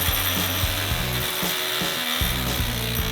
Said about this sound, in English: This so-called breaker is basically just a hammer that hammers really fast.